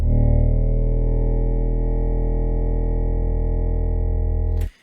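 A very low, thick sustained synth drone pitched down 48 semitones, with no effects and a buzzing, distorted texture, holds steady for several seconds, then cuts off abruptly.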